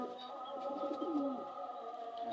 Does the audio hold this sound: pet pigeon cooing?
yes